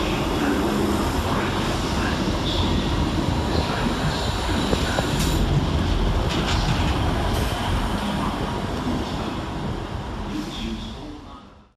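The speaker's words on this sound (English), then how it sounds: "And your final train of this session is 159006, working the 1437 South Western Railway service off London Waterloo through to Salisbury." South Western Railway class 159 diesel unit 159006 at Basingstoke station on a Waterloo to Salisbury service, a loud steady rumble and roar of the passing train that holds throughout and fades slightly at the end.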